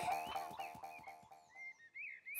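The cartoon frog from Hey Duggee lets out a quick run of rhythmic, close croaks, about seven pulsing notes, before they give way to brief higher tones.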